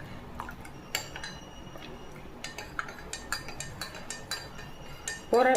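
Spoon clinks and scrapes against a glass or vessel while an amla (Indian gooseberry) drink is mixed, light intermittent taps at close range, with a louder clatter at the end.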